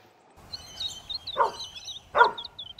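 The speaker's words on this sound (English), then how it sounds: "young Bunji's bark and bounce are giving Annika and Evie cause for concern." A young dog barks twice, close and fairly loud, with short gaps between the barks and chirping birds in the background.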